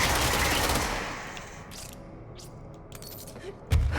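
Gunfire in the Control video game: a loud burst of rapid shots at the start fading into a quieter room, then sparse sharp cracks and one final heavy shot near the end.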